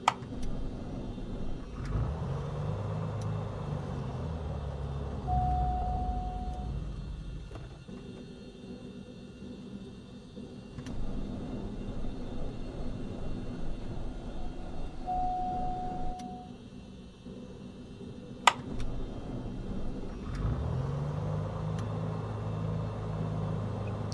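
A light piston aircraft engine idling and running steadily after start in Microsoft Flight Simulator 2020, a low droning rumble that swells and dips over time, with brief tones and a sharp click partway through, no talking.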